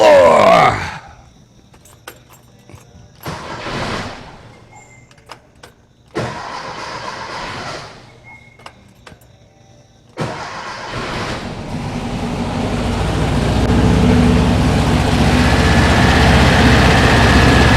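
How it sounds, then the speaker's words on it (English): A cold 1968 Porsche 912 engine cranks in several separate bursts of starter whirring, then catches and settles into a steady, loud, close idle that slowly builds and holds. "Completely cold start, so give her a few pumps. See if she lights off."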